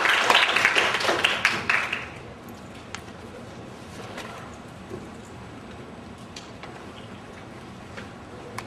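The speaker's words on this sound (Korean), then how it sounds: "다시 한번 감사의 박수를 드립니다" A brief burst of audience applause at the end of a lecture that quickly fades after about two seconds, leaving quiet room noise with a few scattered claps.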